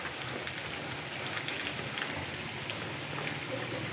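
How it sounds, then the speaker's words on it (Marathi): Heavy rain falls outdoors as a steady, dense hiss with scattered louder drops and patters, with no voices present. "जोरदार पाऊस चालू आहे."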